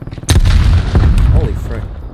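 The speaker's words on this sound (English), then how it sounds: "Throwing frag." In the video game Call of Duty Black Ops Cold War, a frag grenade detonates in a loud, booming blast near the start, followed by a rumbling tail and scattered gunfire-like cracks.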